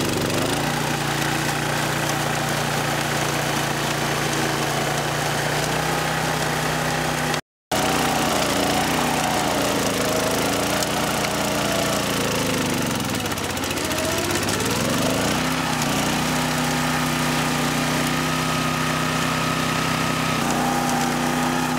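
A wing mower with a petrol engine cuts through tall grass, running loud and steady close by with a brief gap, then bogging down in pitch as it bites into the thick growth before recovering.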